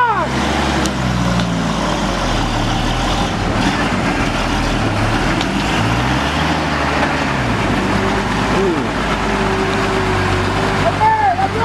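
Loaded Fuso truck engine straining under acceleration, a low droning rumble with shifting pitch over about twelve seconds, heard from close by with voices talking over it.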